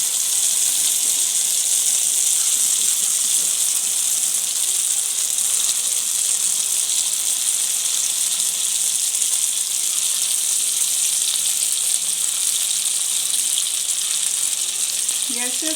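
Chhena fritters frying in about half a cup of white oil in a kadai over a low-to-medium gas flame, giving a steady, even hiss and sizzle that carries on unbroken at close range.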